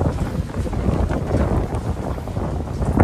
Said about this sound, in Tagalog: Kaya napakalakas ng hangin